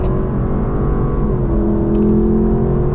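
A Lexus accelerating out of a corner on the Laguna Seca race track, with a loud, steady engine drone that rises slightly in pitch as power builds, heard close from inside the car.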